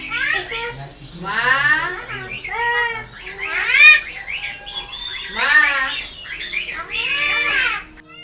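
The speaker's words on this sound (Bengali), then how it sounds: "ভাঙা ভাঙা শব্দে শিশুদের মতো করেই ডাকে পাখিগুলো" Three pet common mynas in Kushtia, Bangladesh, call in broken, childlike talking sounds: a close, continuous stream of chattering, squawking and warbling phrases that rises and falls in loudness.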